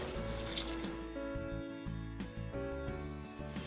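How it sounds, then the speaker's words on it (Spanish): Water pouring into a cooking pot while making Sinaloa-style tostiesquites: a steady, close, full gush with a ringing, shifting resonant tone from the pot, continuous throughout and without talk. "Vamos a poner el agua."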